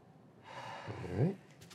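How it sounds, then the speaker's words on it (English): A patient draws a single deep breath during a lung exam, a faint breathy inhale that swells and then eases, heard up close in a quiet room. "But you just take a few deep breaths,"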